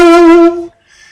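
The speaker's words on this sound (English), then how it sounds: "now, when you connected the reed, it's ready to produce a sound like this." A single loud, reedy buzzing squawk from a saxophone mouthpiece, held about half a second and then cut off, followed by quiet hiss.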